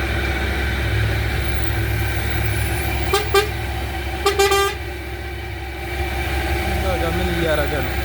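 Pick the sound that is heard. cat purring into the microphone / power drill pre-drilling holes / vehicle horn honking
vehicle horn honking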